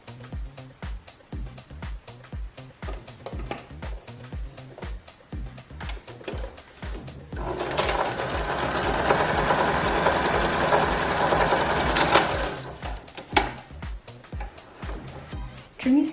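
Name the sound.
sewing machine sewing knit band into a loop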